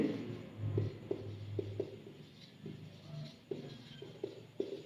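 A pen scratches out a maths solution on paper in short, separate strokes, quiet and close, with soft pauses between marks and no voices.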